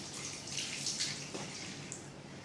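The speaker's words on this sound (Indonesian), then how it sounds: "Bilas dengan air mengalir sampai hilang sisa sabun-sabunnya." Running tap water pours and splashes as hands are rinsed free of soap, a soft, steady flow with small splashy bursts, no voices.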